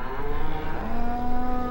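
Cattle in Farming Simulator 2015, a herd of about fifty cows, lowing in a long, drawn-out moo that holds steady and clear with a little faint background hum.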